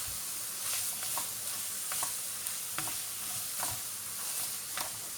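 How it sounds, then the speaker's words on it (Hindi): Grated carrots frying in hot oil in a pan, giving a continuous close sizzle with soft repeated scraping of stirring at an even pace, no voices. "अब इसको 3 मिनट के लिए इधर ही इंशाल्लाह इसको फ्राई करेंगे"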